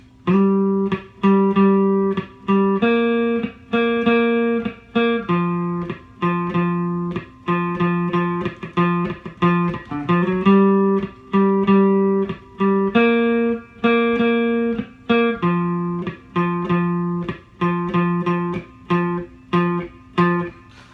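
An electric bass guitar plays the bridge riff of a song, repeated short plucked notes in a steady rhythm with a sliding note near the middle; no voices.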